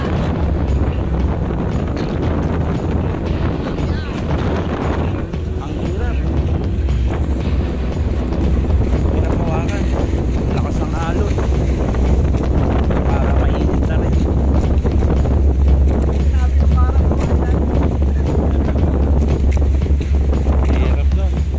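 Heavy wind buffets the microphone in a constant low roar, with waves and a boat's rush beneath on rough sea near Corregidor, and voices talking faintly at times.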